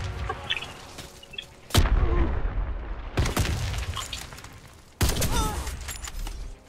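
Grenade blasts in the shooter game Warface: three sharp, loud bursts at uneven intervals, each a sudden crack with a rumbling, decaying tail over quieter in-game background noise.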